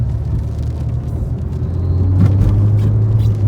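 Renault Mégane 2 RS engine pulling under light throttle, a steady low drone that swells into a louder, rising hum midway through, heard from inside the car with no one talking.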